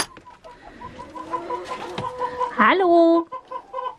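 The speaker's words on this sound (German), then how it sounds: "So, den Hühnern geht's gut." Backyard chickens cluck and murmur close by, with one louder, rising squawk near the end, while a person briefly says a greeting.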